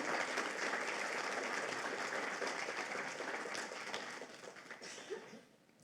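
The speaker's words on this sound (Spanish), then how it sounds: "dale fuertes palmas al Señor." Congregation at a Christian mission church service claps strongly for the Lord, a dense wash of applause that holds steady then tapers off toward the end, somewhat distant and faint.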